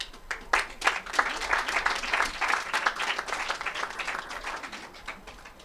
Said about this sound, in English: And I think you can applaud.